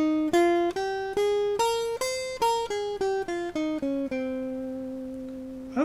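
Clean electronic tones step through a Phrygian mode scale, a run of evenly spaced separate notes that climbs and descends before settling on a long sustained final pitch.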